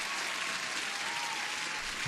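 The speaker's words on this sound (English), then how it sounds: "everybody deserves an applause here" Applause from a group of people during a live futures trading session, a brief, even wash of clapping that sounds somewhat distant and soft.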